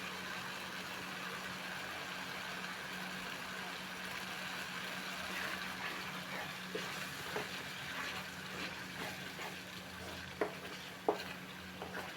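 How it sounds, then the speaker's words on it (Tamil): Chilli chapathi gravy sizzles softly in a pan while being stirred, a steady low frying hiss with a few faint scrapes and clinks of the spoon toward the end. "நல்லா வதங்க விடலாம்"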